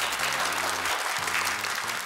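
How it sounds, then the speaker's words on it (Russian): A television game-show studio audience applauds in a dense, even patter, with music playing underneath for about two seconds. "под аплодисменты нашей студии"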